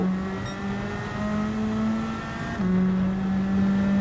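A car engine in Gran Turismo 7 held at steady high revs, a loud sustained drone that drops briefly with a gear shift and climbs again, with no talk over it.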